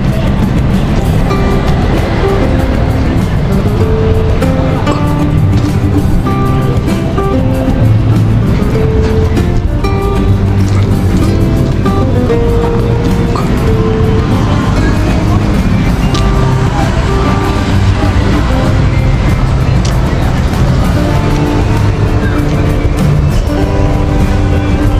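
Busy ambience at the Eaglestack bus terminal: a dense, continuous rumble of idling and passing vehicles with engine drone and scattered clatter, loud and close throughout, with faint voices mixed in.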